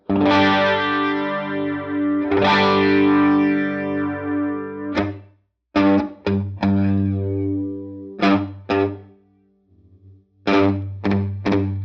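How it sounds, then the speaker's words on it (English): An electric guitar runs through a Helix ADT tape delay with both tape heads on together, so sustained chords and short plucked stabs each carry doubled slapback repeats and a slightly driven tone. "So that's just both tape heads just at the same time."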